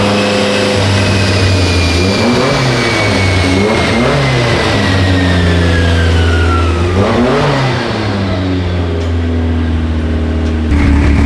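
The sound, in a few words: car engine warming up on a dyno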